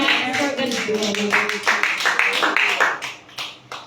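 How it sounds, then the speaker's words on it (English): A church congregation claps hands together in a steady, fairly quick rhythm of many overlapping claps, loud and close throughout, with voices sounding underneath. "Clap your hands for God's glory."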